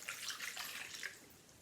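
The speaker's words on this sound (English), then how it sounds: "going to put the water," Water being poured into a pressure cooker holding apple pieces, a soft, continuous splashing trickle heard faintly and without talk.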